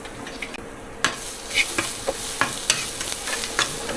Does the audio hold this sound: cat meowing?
no